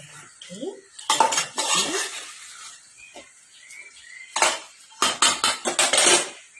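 Chicken salad is stirred in a bowl with a spoon, giving bursts of clinking and scraping utensil strokes separated by short quiet gaps, close and fairly loud.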